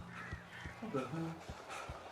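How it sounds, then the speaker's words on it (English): Crows caw in the Alan Wake video game, with a few harsh, spaced calls heard alongside a voice speaking and faint background game ambience. "A couple of them got in here before I blocked the chimney. This isn't normal. These birds are weird."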